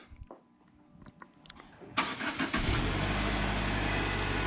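After a few faint clicks, a 2020 or later Subaru Outback or Legacy engine cranks by remote start and catches, then settles into a steady, close idle rumble.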